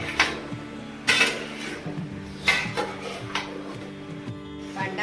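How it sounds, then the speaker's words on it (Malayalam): Bilimbi pickle is stirred in a pan, with a spoon scraping and clinking against the metal in several sharp knocks over a soft background hum, close and fairly quiet. "അതുവരെ നമ്മൾ ഇതിങ്ങനെ ഇളക്കി കൊണ്ടിരിക്കണം"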